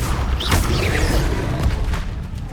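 Incendio fire spell cast in Hogwarts Legacy, a loud whooshing burst of flame with a rumbling boom that roars for a couple of seconds and then trails off.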